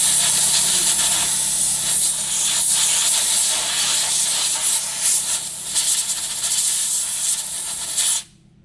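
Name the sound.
air nozzle blowing dust off brake bleeder screw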